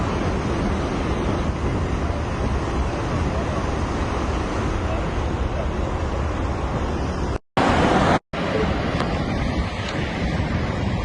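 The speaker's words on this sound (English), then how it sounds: "The sea has burst the banks, leaving a lot of boulders on the road now." Sea surf battering a coastal road during Hurricane Beryl in Jamaica, a continuous loud roar of waves and wind with no clear breaks, broken briefly by two short dropouts.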